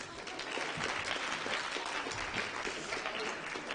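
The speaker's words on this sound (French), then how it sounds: "je vous laisse les applaudir." Student audience applauding the members of a student union election list at an engineering school debate, a continuous, fairly soft and distant patter of many hands clapping.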